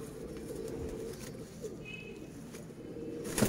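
Pigeons coo softly in a loft kept for young flying birds, a low repeated murmur running steadily under a faint background hum, with a brief rustle near the end.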